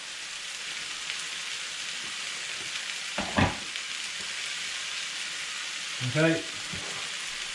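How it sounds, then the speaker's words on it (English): Bolognese sauce in a pan sizzles steadily while stock is stirred in, with a soft continuous frying hiss and two brief louder scrapes of stirring; a voice speaks once briefly. "give it a stir around, make sure it's all dissolving"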